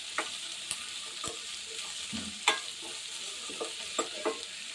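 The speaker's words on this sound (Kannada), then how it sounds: "ಸ್ವಲ್ಪ ರ ಬ್ರೌನ್ ಕಲರ್ ಬರೋವರೆಗೂ ಚೆನ್ನಾಗಿ ಫ್ರೈ ಮಾಡ್ಕೊಳ್ಳೋಣ ಅದನ್ನ" Chopped onions for poha fry in an open pan, a steady broadband sizzle broken by several sharp scrapes and clicks of a stirring spoon, close and moderately loud with no talking.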